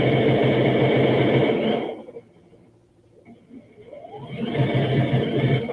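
A domestic sewing machine stitching woven fabric for a kimono duster whirs steadily, pauses briefly, then speeds back up to a loud, close, even hum.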